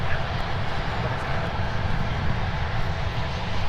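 A Delta jet airliner at Minneapolis–Saint Paul airport throttles up for takeoff toward Dublin, a loud, steady, broadband engine roar with a deep rumble that holds constant throughout.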